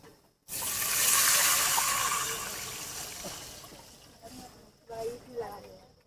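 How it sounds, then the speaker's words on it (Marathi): Water is poured into a pan of fried red onions, setting off a sudden loud rushing hiss that slowly fades over a few seconds. Faint voices and light clatter come in near the end. "आता पाणी टाकू आता पाणी टाकून नंतर मग ठेसा टाकू"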